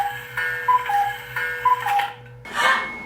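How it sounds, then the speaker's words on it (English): An oven timer in a home kitchen rings with a repeating pattern of short electronic chime tones, followed by a brief burst of rustling noise. "our oven is ring-a-ding-dinging"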